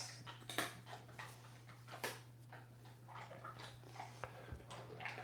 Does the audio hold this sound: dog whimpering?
yes